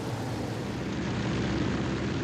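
The engine of a Broussard light aircraft drones steadily in flight at about 80 knots, a loud continuous propeller roar heard from inside or close by, with no speech.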